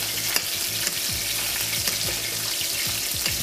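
Boiled potatoes being mixed and lightly mashed with a fork, a close, steady series of rhythmic scraping and squishing strokes, roughly two per second, with no voices.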